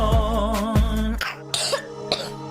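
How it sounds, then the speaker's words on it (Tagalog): A child coughing close by, two hoarse coughs followed by a few quieter throat-clearing sounds and short breaths, loud and with nothing else over it. "Ubo ng anak, nakababahala, baka plema."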